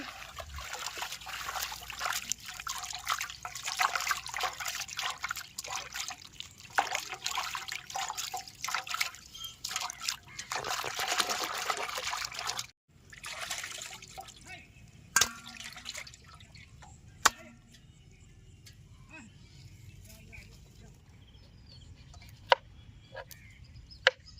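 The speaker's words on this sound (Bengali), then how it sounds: "তো আবার চিকেনটা ধুয়ে নেবো, জল দিয়ে দেবো" Chicken pieces rinsed with water for momos, running water trickling and splashing steadily for about twelve seconds, then stopping, followed by scattered drips, clinks and quiet handling noises nearby.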